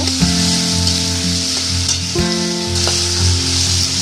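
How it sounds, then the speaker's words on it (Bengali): Potatoes fry loudly in a hot pan, a dense, close sizzle running throughout, with an occasional stir or clatter and a faint steady hum underneath, no voices. "এবার আমি আলুটা ভেজে নেব"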